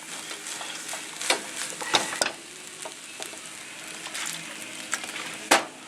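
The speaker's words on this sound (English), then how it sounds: "Throw your scrambled eggs right on top. Okay, your eggs in. We're mixing our egg in." Scrambled eggs are stirred through pork fried rice in a hot pan, giving steady sizzling with repeated scraping and clattering stir strokes and a few sharp knocks, close and alone without talk.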